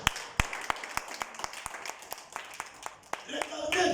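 A church congregation claps along during a worship service, with sharp, evenly spaced hand claps under a lively room wash and voices, swelling into broader applause at the end.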